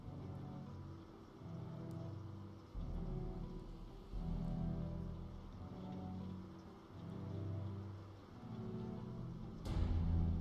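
Rain pattering down in the zombie survival game Project Zomboid, a steady, soft wash of falling water under a low, pulsing drone of music, with a sharp crack near the end.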